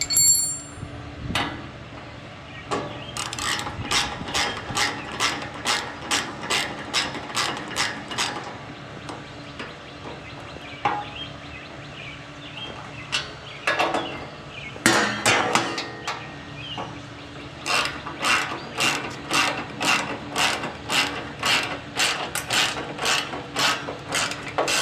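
A hand ratchet tightens bolts on a rear-tine tiller assembly, with bursts of rapid, crisp clicking strokes repeated in rhythmic runs and short pauses between them, close and clear.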